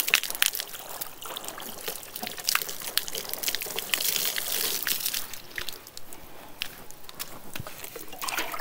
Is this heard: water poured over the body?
yes